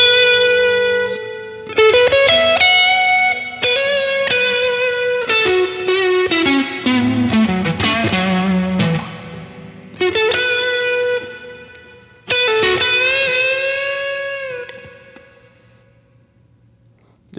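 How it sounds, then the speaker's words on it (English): A distorted electric guitar through a Martinic TG100 reverb pedal plays sustained notes and chords drenched in reverb, with long shimmering tails fading out after each phrase. "we're just like putting reverb on reverb"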